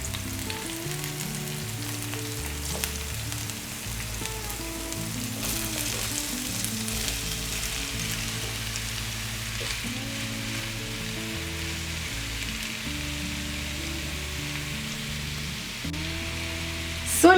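Sliced zucchini and sweet red pepper fry in a pan with a steady, close sizzle and crackle that holds at an even level throughout, with light stirring and kitchen clatter mixed in and no talking.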